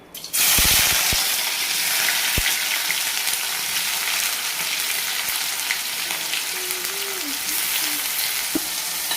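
Chopped onions hit hot oil in a pan and fry with a loud, steady sizzle that rises sharply at the start and hisses continuously, with a few faint clinks of a utensil stirring.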